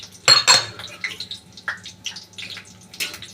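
Chopped coconut stirred in tempering oil in a kadai over low heat, with a sharp metallic clatter at the start followed by lighter scraping and clinking of a spoon against the pan, close by.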